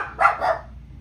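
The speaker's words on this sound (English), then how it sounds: "these dogs" A dog barking twice in quick succession, close and fairly loud, then quiet with a low hum underneath.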